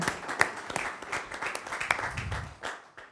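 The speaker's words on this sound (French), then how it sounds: "on peut les applaudir, évidemment, mesdames et messieurs les élus" Scattered, sparse clapping from a small crowd at an eco-action awards ceremony in Nantes, honouring elected officials; individual claps stand out irregularly at a fairly quiet level.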